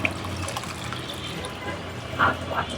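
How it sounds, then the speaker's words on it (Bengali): Water is poured into a cooking pot of thin khichuri with beef and spices, a short wet splashing and filling sound close up, with a few light clinks. "আর এখন হচ্ছে দিয়ে দিব পরিমাণ মতো পানি।"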